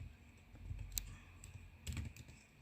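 Keystrokes typed on a computer keyboard while entering commands in Stata, sparse soft clicks with a small cluster of taps near the end, quiet and close over a low background hum.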